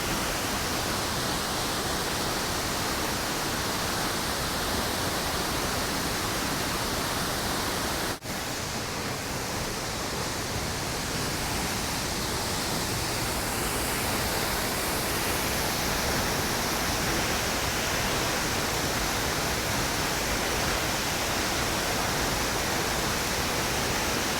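Ouzel Falls in Rocky Mountain National Park roars with heavy water flow and mist, a loud, unbroken broadband rush close by that holds steady throughout, with only a brief momentary dip.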